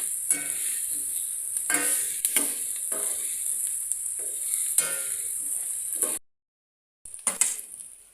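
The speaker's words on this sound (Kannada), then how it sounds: "ಕೆಂಪಾಗುವವರೆಗೂ ಫ್ರೈ ಮಾಡ್ಕೊಳ್ಬೇಕು." Ingredients for lemon rice sizzle in a hot pan, a steady bright fry punctuated by stirring scrapes, then a brief silence before the sizzling picks up again.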